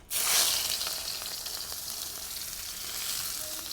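Onions dropped into a hot pan for a traditional Indian vegetable dish, a sudden loud sizzle that settles into a steady, close frying hiss.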